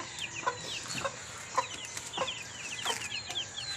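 Many day-old broiler chicks cheep in rapid high chirps, overlapping and continuous, close by with brief louder peeps scattered throughout.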